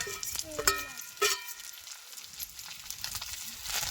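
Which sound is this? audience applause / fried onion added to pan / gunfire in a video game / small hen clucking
fried onion added to pan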